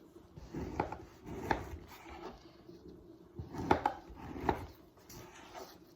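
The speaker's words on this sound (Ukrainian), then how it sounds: "Я нарізаю на кубики." A knife chops bread into cubes of about 1.5 cm on a board in irregular bursts of quick cuts, with brief pauses between.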